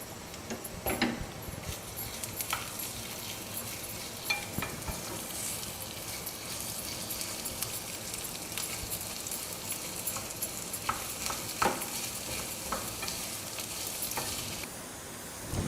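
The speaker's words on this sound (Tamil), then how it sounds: "பெரிய வெங்காயத்தை போட்டு நல்லா ஒரு மாதிரி ப்ரௌன் கலரில் இருக்கிற மாதிரி வறுக்கணும் நம்ம" Sliced onions fry in a pan until brown, a quiet, steady sizzle with scattered faint ticks and scrapes of stirring throughout.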